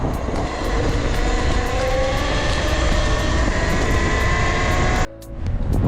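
Talaria TL 4000 electric motorbike ridden on a trail, a loud continuous motor whine and rushing wind that holds steady, then drops off sharply near the end.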